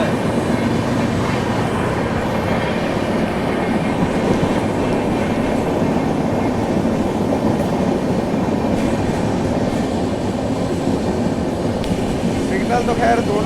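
Rapti Sagar Express (12592) running alongside the Andhra Pradesh Superfast Express, heard from on board as a continuous loud rumble and rattle of coaches with faint rhythmic wheel clatter.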